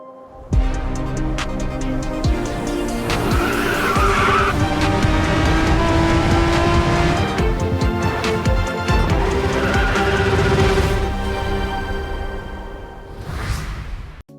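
A 2017 Aston Martin Vulcan races in Racing Master, its engine howling loud and close with gear-change shifts, tire squeal and skidding over a sustained high-revving roar.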